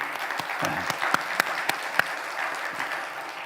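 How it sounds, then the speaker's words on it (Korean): Church congregation at a Sunday service claps in a steady round of applause, moderately loud and diffuse, with a few sharper individual claps standing out and faint voices underneath. "다시 한번 박수 한번 쳐보세요"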